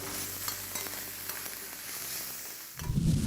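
Onions stir-frying in a pan until caramelized brown, a steady close sizzle with light stirring scrapes, growing louder and fuller near the end.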